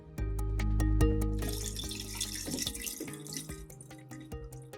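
Hot water runs and splashes into a tub to thaw a rock-hard frozen chicken, a steady close gush with dripping and harmonic tonal ringing in the background, no talking.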